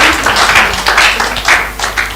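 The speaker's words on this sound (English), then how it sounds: "my teacher is clapping" A teacher claps hands in a broadcast program setting, a steady run of sharp, evenly spaced claps at close range, with no clear talking over them.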